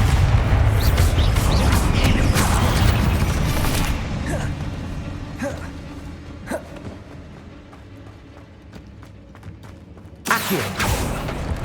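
Booming blasts from the Bombarda explosion spell in Hogwarts Legacy, a heavy rumbling detonation that decays into scattered crackles before another sharp burst near the end.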